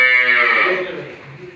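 A single drawn-out moo from a nearby Holstein Friesian cow, strong at first and then tapering off, with faint background noise after it.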